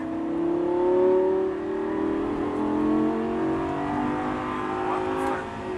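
A Lamborghini Gallardo accelerates on the Paul Ricard circuit, its engine note rising in a steady, continuous drone. The sound stays loud and close throughout, with no talk over it.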